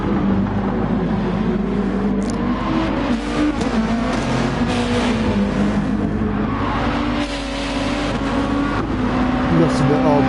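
Race cars lapping the Spa circuit in a PS4 racing game, engines droning and revving steadily throughout while a commentator talks over the continuous roar.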